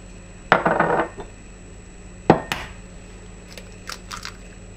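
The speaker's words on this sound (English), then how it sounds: "Into the mixing bowl now I'm going to add the prawns, pepper, vinegar" Prawns, pepper and vinegar dropped into a mixing bowl, giving two separate clattering bursts of ingredients and utensil against the bowl, close and fairly loud, then a few faint light clinks.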